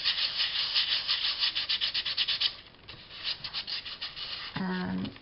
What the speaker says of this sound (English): I'm going to sand these down